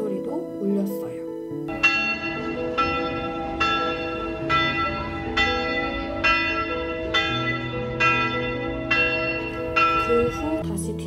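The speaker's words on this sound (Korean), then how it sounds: "그리고 마침 12시여서 종소리도 울렸어요." Church bells ring at noon in Salzburg's old town, a loud, steady series of strikes under a second apart over a sustained humming resonance and street ambience.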